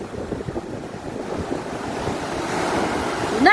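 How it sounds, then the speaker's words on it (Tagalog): Steady ocean surf rolls and washes continuously during a typhoon, a broad roar with wind noise over the microphone, swelling slightly louder toward the end. "Tubig, balod."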